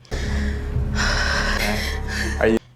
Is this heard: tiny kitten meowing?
no